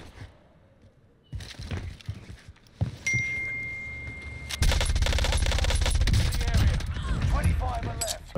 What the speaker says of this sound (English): I haven't used a gun with this much recoil